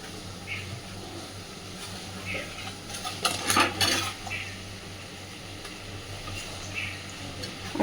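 Prawns and boiled potatoes are stirred in a pan, with a spoon scraping and clinking against the metal and a cluster of louder clatters in the middle over a faint cooking hiss.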